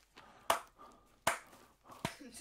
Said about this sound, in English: That's me clapping.